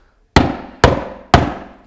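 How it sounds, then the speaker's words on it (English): A rubber mallet knocks the wooden cedar parts of a commercial beehive brood box together, three firm, close thuds in an even rhythm about half a second apart. "I'm just going to knock it together with the rubber mallet."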